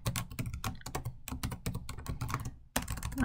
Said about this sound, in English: So let me quickly type that out.